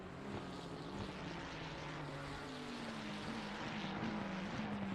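Race car engine held at full throttle down the main straight in Assetto Corsa Competizione, a steady loud drone with a rising harmonic whine throughout, no talk.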